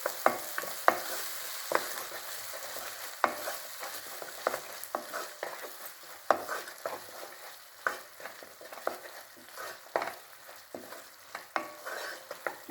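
Tomato puree sautéing in a pan gives a continuous soft sizzle, broken by frequent scraping and clicking strokes of a spoon as it is stirred in an irregular rhythm, close by and alone.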